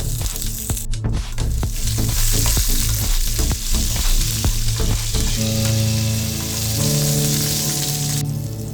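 Spices, dried red chillies and curry leaves sizzle and crackle steadily in hot oil as a tempering for brinjal mint chutney, a close, dense frying hiss that continues throughout with no talking.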